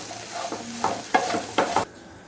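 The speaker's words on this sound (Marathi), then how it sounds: "आता आपल्याला लो टू मीडियम फ्लेमवर भेंडी 4 ते 5 मिनिटे भाजून घ्यायची आहे" Okra frying in a pan on a low to medium flame, with a soft sizzle under a few quick spatula scrapes and stirs, close by, before the sound cuts off abruptly.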